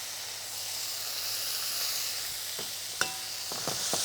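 Beef strips hit a smoking-hot pan with a steady broadband sizzle and hiss, joined near the end by a few sharp scraping stirs as the meat is moved around; close and fairly loud, no voice.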